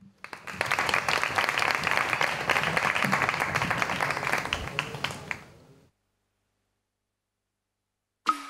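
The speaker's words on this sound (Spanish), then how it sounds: "Un fuerte aplauso para Adam" Live audience applause greets Adam at a final gala night show, dense clapping that swells and holds for about five seconds, then fades into silence before a brief sound at the end.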